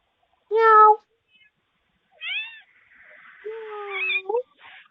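A cat meows loudly and clearly at a house door, one long harmonic call followed by a pause, then a rising meow and a longer drawn-out one, close and alone with no talk.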